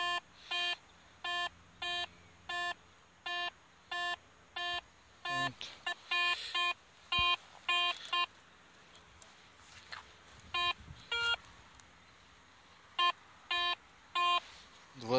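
A metal detector beeps in a steady run of short, evenly spaced double-toned pulses, with brief rustling and handling noise in between.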